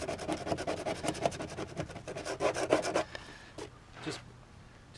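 Close, rapid rubbing scrapes dirt off rust spots on a car body in quick back-and-forth strokes. The strokes stop after about three seconds, and a few softer scuffs follow.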